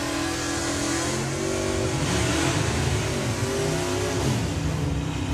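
Roaring engines of a Chevrolet Chevelle and a Ford Mustang accelerating hard down a drag strip at Santa Pod Raceway, loud and continuous with a rising rev note, crowd-level distance, no voices.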